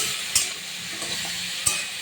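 Eggplant frying in a pan with salt and turmeric, a steady soft sizzle broken by two sharp clinks of a spatula stirring against the metal, close and without talk.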